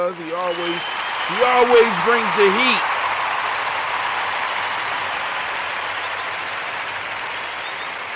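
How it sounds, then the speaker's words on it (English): Sustained audience applause at a talk event rises after a brief spoken phrase and then continues as a steady, even wash of clapping that fades slightly toward the end. "we want to give our resident Yoda a round of applause"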